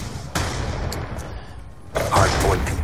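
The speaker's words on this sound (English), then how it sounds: "Love the sound of this weapon." A SCAR rifle fires in Call of Duty Black Ops 2 during a Hardpoint match on the Slums map. One sharp report comes first, then a louder cluster of close shots with rattling mechanical tails.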